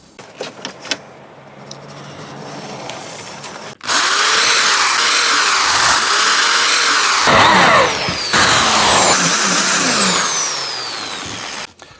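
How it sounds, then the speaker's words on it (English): A power screwdriver drives screws into wooden rails of a router slab-flattening jig, starting with a few clicks, then loud sustained whining bursts with rising and falling pitch as each screw sinks in. "So now to screw these together."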